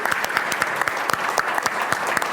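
Audience applause at a podcast event in Spain, a dense, steady patter of many hands clapping together in a hall, loud and continuous with no speech over it.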